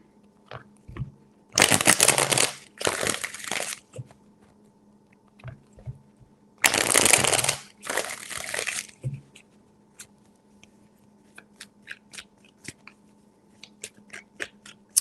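Tarot cards are shuffled in repeated bursts of dense riffling and flapping, with soft taps and card handling between them, close and clear, without speech.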